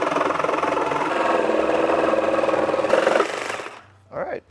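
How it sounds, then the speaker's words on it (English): Jigsaw cutting a wood board, a loud, rapid buzzing saw stroke that holds steady for about three seconds, then cuts off, with a voice briefly speaking near the end. "I'm going to cut this with the jigsaw"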